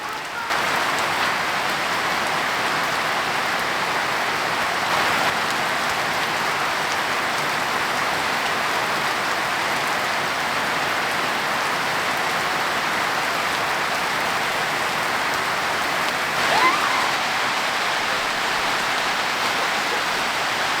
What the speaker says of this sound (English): Traditionally, this is fried in lard, and we're sticking to tradition today.